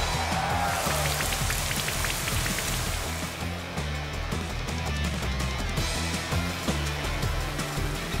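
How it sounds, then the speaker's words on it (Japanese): Rain summoned by the Rain Dance move in the video game Pokémon Sword: a steady, dense hiss of falling rain and spattering drops, loud and continuous, with a faint looping game tune underneath. "雨乞い使ってくる。 雨乞いだね。"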